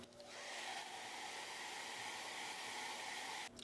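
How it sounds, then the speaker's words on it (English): A hair dryer blows steadily on stencil paint layers, a close, constant whooshing hum that starts abruptly and cuts off after about three and a half seconds. "I will have to blow dry between layers to speed up the"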